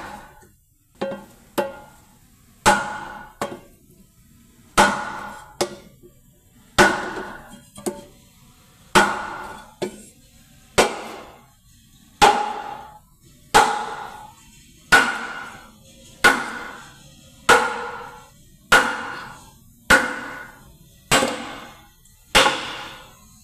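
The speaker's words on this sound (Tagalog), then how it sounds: "kahoy lang yung ginawa kong sangkalan bago pukpukin ng martilyo ng maso para hindi masugatan." Sledgehammer blows landing on a wooden block to seat a cylinder bore in an Isuzu Giga Max ten-wheeler 6WF1 engine: a steady series of about twenty sharp, loud, ringing knocks at roughly one-second intervals, with no talking.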